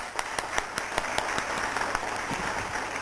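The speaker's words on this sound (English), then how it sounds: "Give him a huge round of applause." A conference hall audience at a college event applauds a visiting professor, giving a continuous wash of clapping with a few louder individual claps standing out, slightly distant.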